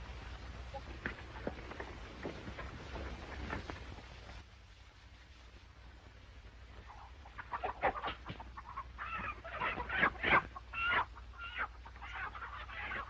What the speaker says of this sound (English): help me find that rooster.